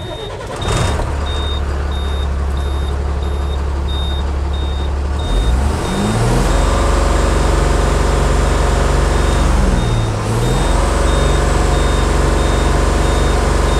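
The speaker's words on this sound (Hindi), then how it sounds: "तो अब हम गाड़ी को स्टार्ट करते हैं।" A Tata 3118 BS4 truck diesel engine is heard idling, then cranks and starts, and keeps running with a loud steady rumble. A second cranking surge follows, and a high beeping tone sounds throughout.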